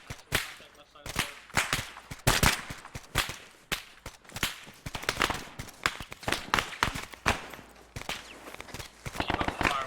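Airsoft skirmish gunfire on a roadside near a house: many sharp, close snapping shots in irregular bursts and rapid strings throughout, with faint movement between them.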